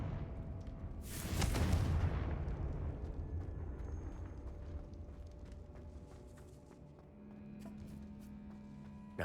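The Confringo fire spell in the Hogwarts Legacy video game sets off a deep, booming explosion. A long rumbling tail fades over several seconds, and faint clinks and debris sounds follow.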